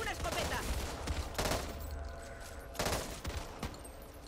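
Shotgun blasts in the zombie shooter Back 4 Blood, heavy bursts of gunfire with booming reports roughly every second or so amid continuous game noise, fairly loud and close.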